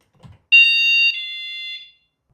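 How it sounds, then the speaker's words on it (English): A tiny battery-powered home door alarm sounds a shrill electronic chime as the door opens, a single sustained high tone lasting about a second and a half and stepping down in pitch, clear and close with no talking. "Now let's simulate it with a chime when I open it."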